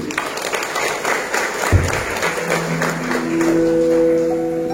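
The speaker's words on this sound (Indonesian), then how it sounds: "Tepuk tangan dulu" An audience at an Indonesian religious motivational training session applauds, a steady wash of clapping that runs through the clip, with a voice and a sustained tone coming in near the end.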